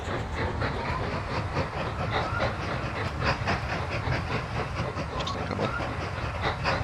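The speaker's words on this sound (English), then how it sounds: "I'm riding on this train because it is my first iron ore train" Iron ore freight train rolling steadily in the Mashinky railway simulation game, a continuous rumbling clatter with faint rhythmic clicks and hiss, loud and close throughout with no voices.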